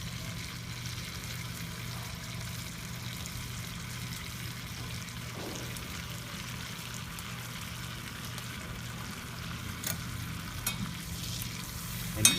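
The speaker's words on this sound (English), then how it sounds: "So these sage leaves will toast as the butter browns" Sage leaves frying in browning butter in a pan, a low steady sizzle throughout with a few soft stirring sounds toward the end, no talking.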